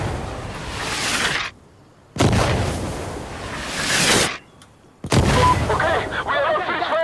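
In Insurgency Sandstorm, heavy gunfire comes in three loud, sustained bursts separated by short silences, the last one mixed with chatter and voices.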